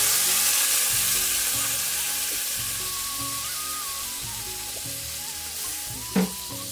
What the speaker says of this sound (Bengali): এবারে দেখো পর্যাপ্ত পরিমাণ জল দিয়ে দিলাম